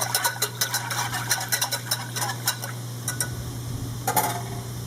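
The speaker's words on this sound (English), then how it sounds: "Just going to add a little bit and whisk it real good until it's all mixed in." A whisk clinks rapidly against a pot while a dry mixture is stirred into a veggie pot pie filling over medium heat, quick irregular metallic taps over a steady background hum.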